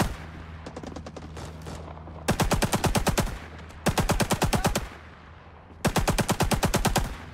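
RP-46 machine gun in Rising Storm 2 fires three long, loud automatic bursts of rapid, evenly spaced shots, each followed by short pauses with low background battlefield noise.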